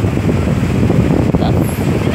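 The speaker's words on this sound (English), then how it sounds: "These are the waves here. This is how the waves are, really strong." Strong sea waves breaking on Stalida beach in Crete, a continuous loud churning roar of surf mixed with heavy wind buffeting the microphone, with no pauses.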